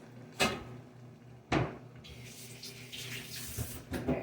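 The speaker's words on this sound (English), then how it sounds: "I always add filtered water" Filtered water poured into a pot of homemade chili, a steady rushing splash that runs on after two sharp knocks of the vessel, close by and moderately loud with no talking.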